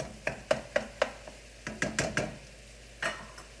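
A spoon stirs stuffed pepper filling in a pan with a run of close, sharp scraping strokes, first in a quick rhythmic series and then in a few spaced-out passes, over a faint sizzle.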